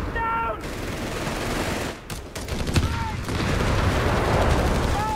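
MG42 machine gun fire in the real-time strategy game Company of Heroes 3, dense continuous battlefield gunfire with a brief dip midway, loud and sustained throughout.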